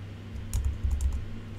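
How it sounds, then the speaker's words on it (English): Several quick keystrokes on a computer keyboard while entering a network address in a Packet Tracer networking exercise, a short clustered burst of clicks over a steady low hum. "Did I type something in wrong there?"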